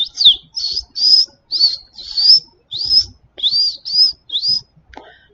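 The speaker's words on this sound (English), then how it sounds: "the sound of a parrot, of a Quaker parrot, I believe is the breed they are" A Quaker parrot calls out on Siesta Key, Florida, repeating about nine loud, harsh rising chirps in a steady rhythm, close by and with nothing else behind them.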